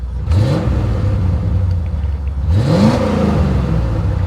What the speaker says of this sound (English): You can hear the idle. It gets a little, you hear it, a little choppy.